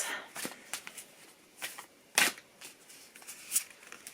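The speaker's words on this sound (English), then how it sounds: "So shuffle a couple of times." Deck of cards being shuffled by hand, a few quick riffling bursts at irregular intervals, soft and close.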